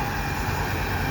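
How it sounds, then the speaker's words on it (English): Canadian Pacific freight train passing at Dorval in winter, a steady close rumble of wheels and cars rolling by without a break. "And there is a second train."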